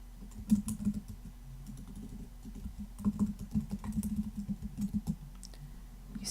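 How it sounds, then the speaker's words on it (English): Typing on a computer keyboard while entering paragraph text in a word processor: soft, close key clicks in irregular bursts, with a short pause before a second flurry. "when you just start typing in here"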